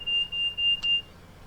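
Train alarm in Train Sim World on a Scotrail Class 158, heard from outside the train: a thin, high electronic tone pulsing in four short, even beeps, then stopping.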